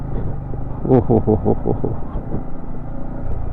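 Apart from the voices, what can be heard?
Yamaha MT15 V2 motorcycle riding in first gear on muddy road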